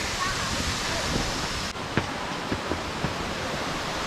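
The third tier of Erawan waterfall in Kanchanaburi, a ninety-metre cascade, gives a constant broad roar of falling water, with a few faint clicks and thumps nearby.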